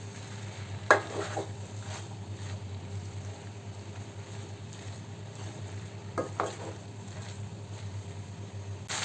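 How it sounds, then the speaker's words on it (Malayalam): Kerala-style aviyal vegetables are stirred and mixed in a pan, a soft, quiet scraping with a couple of sharper clinks of the utensil against the pan. "നന്നായി ഇളക്കി യോജിപ്പിച്ച് കൊടുക്കാം"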